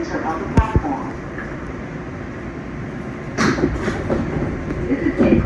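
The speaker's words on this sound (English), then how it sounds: "This is a Queensbound 7 express train." An R188 subway train running on the New York 7 express line rumbles steadily, with sharp rail clicks early on and a burst of rattling clatter in the second half.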